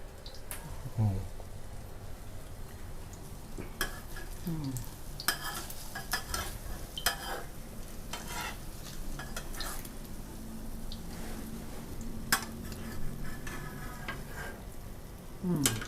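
Thai omelette deep-frying until crispy in hot oil, a steady sizzle with scattered clicks of utensil stirring and pan scrapes; faint home-kitchen voices are audible in the background.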